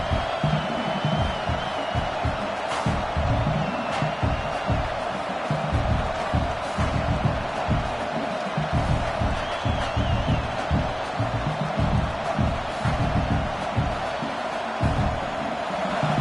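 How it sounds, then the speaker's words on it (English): Stadium crowd at a college football game between Nebraska and USC roaring steadily and loudly throughout, a dense sustained wall of cheering with occasional whoops and whistles rising above it. "This crowd, full throat, splitting the eardrums and letting them know it's going to be a long day."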